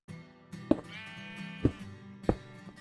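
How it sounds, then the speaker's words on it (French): Sheep bleating close by, one drawn-out bleat that wavers in pitch, set among three sharp knocks at steady intervals. "on entend les moutons bêlés"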